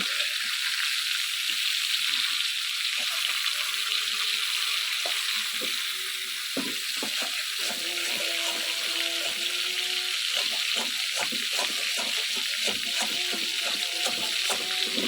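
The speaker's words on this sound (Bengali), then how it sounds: "আমি মাছটা আবার উল্টিয়ে দিলাম" Fish frying in hot oil in a pan, a continuous close sizzle with scattered crackles and pops, punctuated by a few clinks and scrapes as it is turned, no voices.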